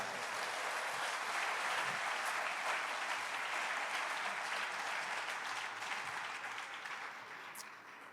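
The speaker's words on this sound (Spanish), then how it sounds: "Dele fuerte el aplauso al Señor," Sustained applause from a church congregation at a Spanish-language sermon, loud and continuous throughout, tapering off slightly toward the end with no speech over it.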